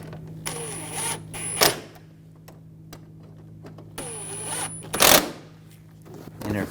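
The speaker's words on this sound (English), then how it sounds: "Tighten those down." Screws being run down with a power driver during AC condenser replacement on a 2004-2009 Audi A4, two separate bursts of whirring with sharp clicks at the end of each, close by over a steady low hum.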